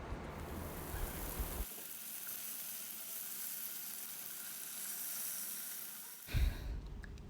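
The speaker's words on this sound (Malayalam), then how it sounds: "പാനിലേക്ക് ഒരല്പം ഓയിൽ, ഏകദേശം 1 ടേബിൾ സ്പൂൺ ഓയിൽ ആഡ് ചെയ്ത് നമുക്കിതൊന്ന് ഫ്രൈ ചെയ്തെടുക്കാം." Chicken breast pieces fry in about a tablespoon of oil in a pan, giving a steady close sizzle that holds for several seconds between clattering handling noises at the start and end.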